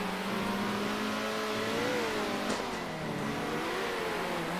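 A race car in Circuit Superstars with its rear wheels spinning up: a steady engine drone with rising and falling pitch sweeps, continuous and close, then a brief sharp crack midway, with no speech.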